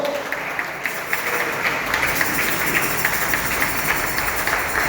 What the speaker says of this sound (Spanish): Denle un fuerte aplauso a Cristo.